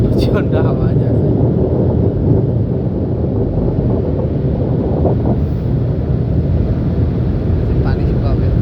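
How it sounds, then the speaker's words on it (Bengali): A strong air blower roars steadily at a car wash drying a car, a loud continuous rushing blast close to the microphone with a faint voice underneath. "হাওয়া প্রচণ্ড হাওয়া যাচ্ছে।"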